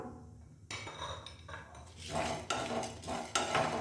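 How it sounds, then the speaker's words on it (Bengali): Cinnamon and black pepper frying lightly in a pan for a spicy-sweet potato dish, with scraping and stirring clinks of a utensil against the pan over a soft sizzle, the strokes growing louder toward the end. "এগুলোকে এবার হালকা ভেজে নেব।"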